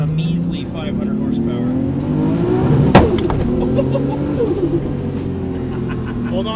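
A 700 whp Nissan R32 Skyline GT-R running on pump gas revs hard while driving, its engine note rising and falling steadily up close, with one sharp spike midway.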